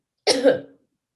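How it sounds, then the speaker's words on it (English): A single short, sharp cough from one person, close by, followed by silence. "going to cough one more time"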